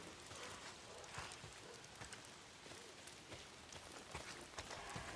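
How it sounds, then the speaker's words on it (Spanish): Heavy rain falls in the post-apocalyptic Days Gone game world, a dense, steady hiss of drops spattering on surfaces, fairly faint and continuous, with scattered sharper drips and no speech over it. "Si no son los freakers, es la maldita lluvia. ¿Por qué siempre está lloviendo?"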